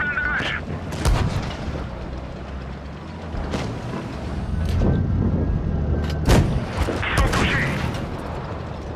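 Tank cannon fire in a tank video game, heavy booming shots at irregular intervals over a continuous engine and mechanical rumble, with a few louder blasts standing out.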